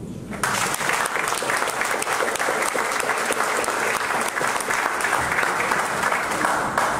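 An audience at an evening talk breaks into loud, sustained applause that starts abruptly and carries on steadily to the end, with no voice heard over it.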